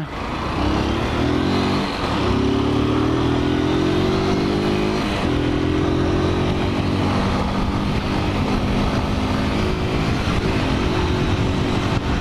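A motorcycle courier rides through busy São Paulo traffic, the close, loud engine droning steadily and dropping in pitch at each of a couple of gear shifts before pulling again, with road noise throughout.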